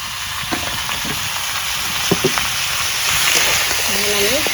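Fish coated in salt, turmeric and chili powder fries in a pan, a steady sizzle with occasional stirring clicks, close by, and a brief voice near the end.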